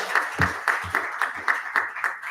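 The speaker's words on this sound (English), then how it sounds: "One last round of applause." A lecture audience claps at the end of a downtown merchant lecture. The clapping is steady and fairly sparse, with evenly spaced claps at a moderate volume and no voices over it.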